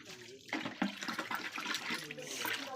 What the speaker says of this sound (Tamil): கழுவிட்டு இருக்காங்க அவங்க சுற்றி.